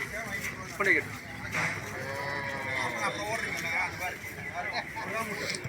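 Native-breed cattle mooing at the Pazhaiya Kottai cattle market, several drawn-out moos near and far over a busy crowd of people talking.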